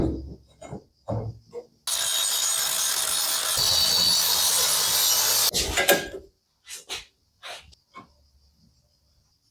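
A saw cutting a marked metal piece for a homemade motorcycle stand, one long steady rasping cut of about four seconds between scattered handling knocks and breaths, loud and close.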